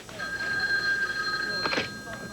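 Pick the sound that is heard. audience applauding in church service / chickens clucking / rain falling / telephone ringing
telephone ringing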